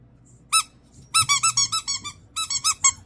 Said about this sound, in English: I guess there is a squeaker in it.